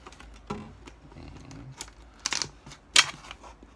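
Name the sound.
sharp knife cutting a plastic PET bottle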